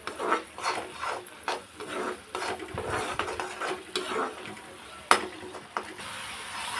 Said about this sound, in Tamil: இதை ஒரு அஞ்சு நிமிஷம் வதக்கி வச்சுக்கலாம்